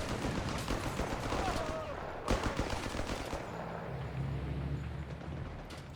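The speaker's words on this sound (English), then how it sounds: "Someone uses the MG34 here." MG34 machine gun firing in Company of Heroes 3, a desert battle of German Afrika Korps against US forces: bursts of rapid gunfire with other battle noise, mostly steady with one sharp crack midway, partly under a commentator's voice.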